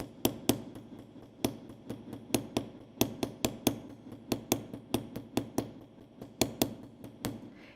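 A small texturing hammer taps metal to texture it, crisp close strikes in quick, slightly irregular bursts with a faint ringing after each hit.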